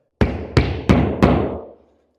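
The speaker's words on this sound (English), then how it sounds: "And we're going to go ahead and hammer our wall anchor in." Hammer driving a wall anchor into a wall, four loud, evenly spaced thuds with short ringing decay, close and alone.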